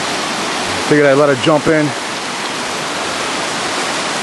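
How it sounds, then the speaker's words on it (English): A brook swollen by overnight rain overflows beside a river, giving a steady, loud broadband rush of water that runs throughout while a person speaks briefly over it. "it's usually a brook, but we got a lot of rain last night, so a lot of overflow"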